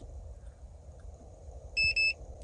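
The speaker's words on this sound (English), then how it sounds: "Have my key, scan the antenna. It'll beep twice" A push-start immobilizer antenna installed in a 1996 Honda Odyssey RA1 gives two short, loud electronic beeps in quick succession over a low idle background.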